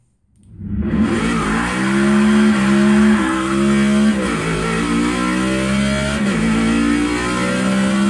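A 2016 Chevrolet Camaro drifts in the Forza Motorsport 6 video game: a loud, sustained engine roar rises and falls in pitch as it revs, with tire squeal running through it and no talking.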